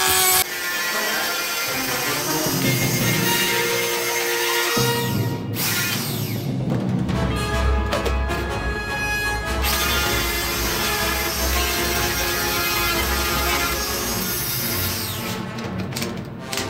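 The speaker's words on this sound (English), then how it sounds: "a Dremel will be required to remove the Star Wars or any logos here" Dremel rotary tool grinding molded logos off a plastic Nerf pistol being converted into a Westar-34-style blaster, a loud continuous high whine that shifts in pitch as the bit bites and eases, running nonstop close up.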